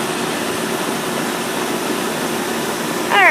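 A Rheem central air conditioner runs with a steady, dense broadband whir of fan and compressor at close range, unbroken throughout, with a brief chirp near the end.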